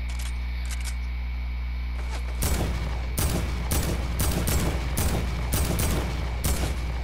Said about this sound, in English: Who even needs a scope with this gun?